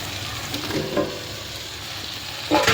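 Cut eggplant tossed into hot oil for kathirikai kaara kulambu, giving a close, steady sizzle that flares louder near the end as more pieces hit the oil, with no talking.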